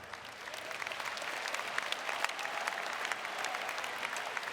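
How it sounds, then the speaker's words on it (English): A large audience at the University of Maryland 2019 spring commencement claps continuously, a dense, even wash of applause that holds steady throughout. "So to the graduates, yes, you can clap for that."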